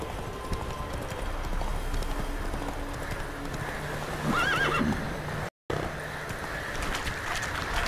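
Roach the horse galloping in The Witcher 3, steady clip-clop hoofbeats throughout with a neigh midway, loud and close under game ambience, with a brief dropout near the end.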